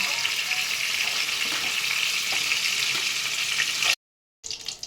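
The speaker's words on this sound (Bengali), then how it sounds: "জিরে গোটা গরম মশলা শুকনো লঙ্কা ফোড়নে দিচ্ছি ফোড়নটা একটু কয়েক সেকেন্ড ভাজা হবে" Whole cumin, garam masala and dried red chillies crackle in hot oil, a dense steady sizzle with small pops that cuts off abruptly, followed by a short gap and a brief return of sizzling.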